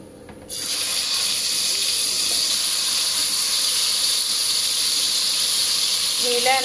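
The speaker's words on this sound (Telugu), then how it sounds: "ఇప్పుడైతే ఆయిల్ కూడా వేడెక్కిపోయింది. ఆయిల్లో వేసేసుకుందాం చికెన్ అయితే." Marinated chicken pieces drop into hot oil for a chicken fry, starting a loud, steady broadband sizzle and hiss that continues without a break, close to the pan.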